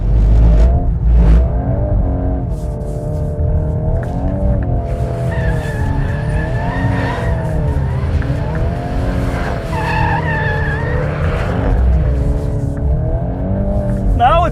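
A VW Golf R Mk 8.5 drifts with its engine revving hard in rising and falling surges, loud and close, as the tires squeal and skid throughout.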